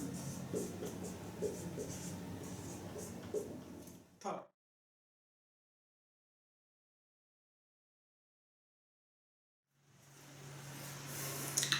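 Pen scratching out an answer option during a physics lesson, heard under a teacher's speech, then cutting to silence before the room sound returns.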